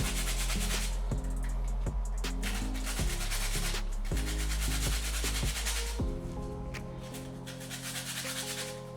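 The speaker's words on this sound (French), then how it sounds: "je suis en train de gratter ma carotte là" A carrot grated by hand gives steady, close scraping strokes in a rough repeating rhythm, about one stroke per second, over a constant low hum, with no voices.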